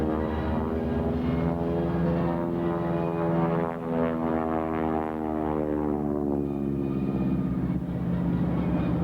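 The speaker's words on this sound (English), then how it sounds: "This is airplane starting off live at Marine Corps Air Station El Toro" An AT-6 Texan (SNJ) propeller airplane engine starts up at a Marine Corps air station, a loud, close radial-engine roar with steady harmonic drone that dips briefly and then settles into a rising, sustained rumble, with no talking.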